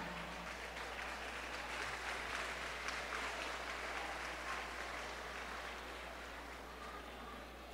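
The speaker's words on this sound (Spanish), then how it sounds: "Vamos a recibirlos con el aplauso de todos ustedes al grupo" Audience applause at an outdoor folkloric festival welcoming a folk music group, a steady, fairly distant wash of clapping that holds evenly and tapers slightly toward the end, with a low hum underneath.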